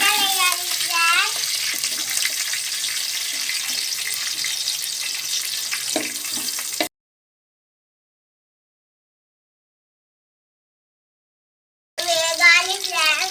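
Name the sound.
onions frying in a pan for mutton curry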